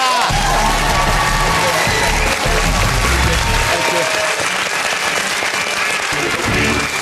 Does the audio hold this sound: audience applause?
yes